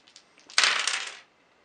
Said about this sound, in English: 3 dice each, surely we can do some damage with 3 dice each.